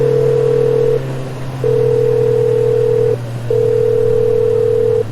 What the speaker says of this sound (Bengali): হঠাৎ বিশালের ফোন বেজে উঠল